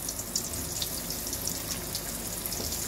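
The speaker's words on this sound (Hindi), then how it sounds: "तो यहाँ मैंने तेल चढ़ा दिया था और इसे हम फ्राई कर लेंगे।" Aloo parwal, potatoes and pointed gourd, frying in hot oil, giving a steady, even sizzle and crackle that holds at a constant level throughout, with no talking.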